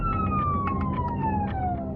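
An emergency vehicle siren wails close by, a single steady tone sliding slowly downward, loud and continuous, with a low vehicle rumble underneath and no talk.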